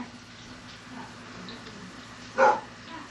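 A dog gives one short, muffled bark from another room, heard faintly over a low steady indoor hum, reacting to a loud car passing outside.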